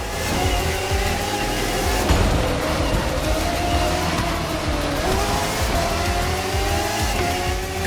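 Race car in The Crew Motorfest racing game, its engine droning loud and steady with shifting revs, while tires squeal through the corners throughout.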